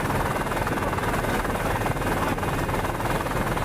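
Hydroplane race boats at full throttle near the finish of the 1987 Gold Cup, a dense, steady engine roar that fills the whole span without letup.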